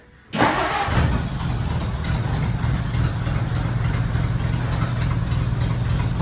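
A car engine fitted with newly installed cut-to-fit spark plug wires cranks, catches and then settles into a steady, close idle that runs evenly to the end, with no talking.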